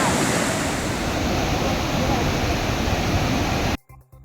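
Courtallam waterfall roaring as a loud, dense rush of water that holds steady for nearly four seconds, then cuts abruptly to a voice speaking.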